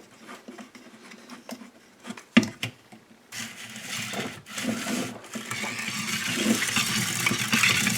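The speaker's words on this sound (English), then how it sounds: "we can just start spooling our braid right on that reel" Thirty-pound braided fishing line winds onto a reel clamped in a vise, giving a continuous close whirring rub that starts after a few handling knocks and grows steadily louder.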